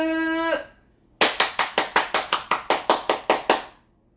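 Children at a church worship service clap together in one steady, rhythmic burst of about thirteen sharp, evenly spaced claps, close and loud, after a brief voice and a short pause.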